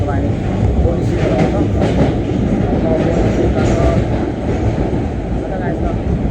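A London Underground train runs steadily and loudly from inside the carriage, a dense continuous rumble with faint rhythmic wheel clatter, no clear talk over it.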